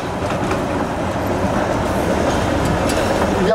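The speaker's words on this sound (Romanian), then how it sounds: "Trece în momentul ăsta tramvaiul." A tram passing by on a frozen winter street at minus 11 degrees, a loud steady rumble with rail clatter that goes on unbroken.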